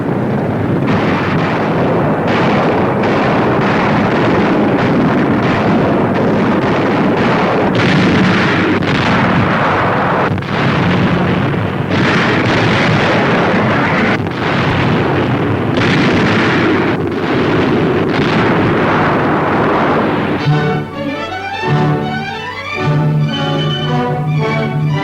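Aerial bombing by Royal Air Force bombers on enemy war plants in 1943 Nazi-occupied Europe: continuous loud, rumbling blasts and heavy booming explosions one after another, with a more tonal passage near the end.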